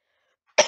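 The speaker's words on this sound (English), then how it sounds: "try to hold in some more coughs" A single short, sharp cough bursts out at the very end after near silence, close to the microphone.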